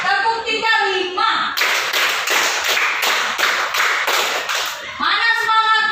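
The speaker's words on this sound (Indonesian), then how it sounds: "tepuk satu, tepuk dua, tepuk tiga, tepuk tiga, lima" Elementary-school children in a classroom clap their hands in a loud, rhythmic series of sharp bursts lasting a few seconds. Voices chant before and after the clapping.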